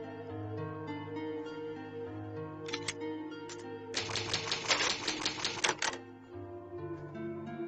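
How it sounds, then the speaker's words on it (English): The save typewriter from the game Resident Evil 1 clacks in a few scattered strikes, then a rapid burst of typing keys over the game's soft background music, ending as the ambient tones continue. "I was making my way back to the typewriter, so"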